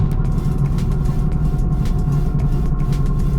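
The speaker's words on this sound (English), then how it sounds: "That noise you hear in the back is the rear wheel bearing." A steady low droning hum from a worn rear wheel bearing rides under road rumble inside a moving 2006 Hyundai Tiburon GS, continuous and fairly loud.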